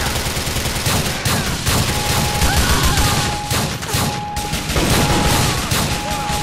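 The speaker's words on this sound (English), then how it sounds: "I'm about to bust this open with the rocket launcher." Rocket launcher explosions and heavy gunfire in GTA IV: The Lost and Damned on PC, a loud continuous barrage of blasts and rattling shots with repeated sharp bursts throughout.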